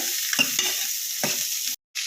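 Raw avarekalu (field beans) fry in hot oil with a soft continuous sizzle, broken by a few scraping stirs of the pan, close up and fairly quiet.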